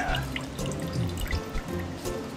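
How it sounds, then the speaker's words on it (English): Water drips and trickles out of drying slime made in a silly string polymer experiment, with close, wet squelching and irregular splashes into a sink, steady and busy throughout. "Look at all the water that's coming out of this."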